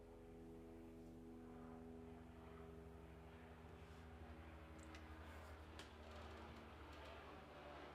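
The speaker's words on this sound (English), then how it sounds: "Can you hear that helicopter?" A steady low engine drone with throbbing rotor-like pulses hangs over the scene, distant but constant, with no speech.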